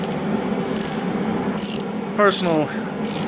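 Socket wrench working loose the oil filter cap on a 2005 Ford F-350, a short ratcheting rattle of rapid clicks midway through a steady background hum.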